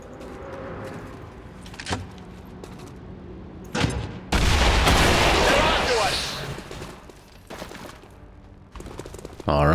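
Grenade launched and exploding in XCOM 2: sharp thumps and clicks, then a loud, sustained blast roar with rumbling debris that slowly fades, followed by scattered clatter and a final sharp hit.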